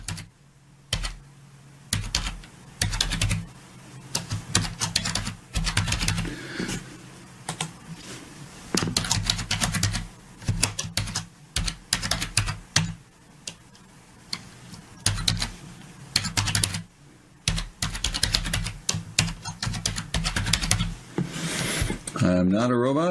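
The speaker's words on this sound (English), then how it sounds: "we type in a name, an email address" Typing a name and an email address on a computer keyboard, close, quick bursts of clicky keystrokes separated by brief pauses, with a few louder taps near the end.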